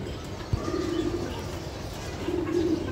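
A pair of racer pigeons coo softly nearby in two low, rolling bursts, with a brief knock early on and faint background ambience.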